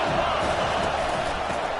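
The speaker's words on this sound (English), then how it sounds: "This crowd bringing the energy and noise early." A packed college football stadium crowd roars in a steady, dense wall of cheering and shouting, loud and continuous throughout.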